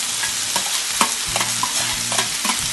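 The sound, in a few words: stir-frying snow peas, green chili and scallions in a pan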